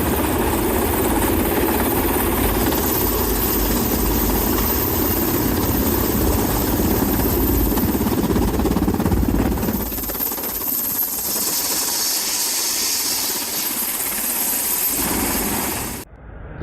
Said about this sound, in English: Here's what a helicopter landing at night looks like.